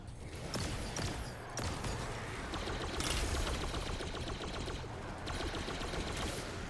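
Sustained bursts of automatic fire from an auto rifle in a first-person shooter game, rapid rattling rounds broken by short pauses, loud and close with no talk.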